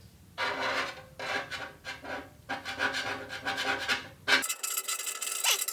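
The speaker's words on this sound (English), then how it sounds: "the rust seems to like just flake off if you scrub it with a stick" A stick scrubs flaking rust off the exhaust of a Honda VFR 800 motorcycle, making close, repeated rough scraping strokes in quick back-and-forth bursts, followed by a brief sharper scrape.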